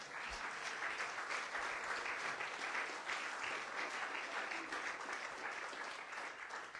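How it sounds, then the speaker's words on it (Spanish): Steady church congregation applause during a sermon, many hands clapping continuously at an even level throughout. "Yo que tú le daba un aplauso al Señor."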